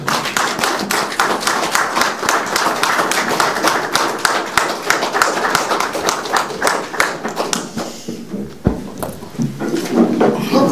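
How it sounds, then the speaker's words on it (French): An audience at a political event applauds a young deputy with dense, loud, rapid clapping that carries on for most of the stretch, then thins and fades near the end, with faint crowd murmur underneath. "Sous vos applaudissements."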